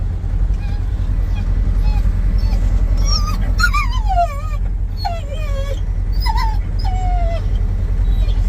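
A young dog whines and yips in a run of rising and falling high whimpers over a loud, steady engine rumble inside a John Deere snow-plowing machine on a trail.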